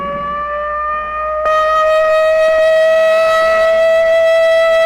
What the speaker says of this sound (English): this siren may mean the real thing